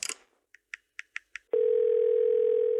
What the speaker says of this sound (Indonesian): Boleh, biar saya yang telepon.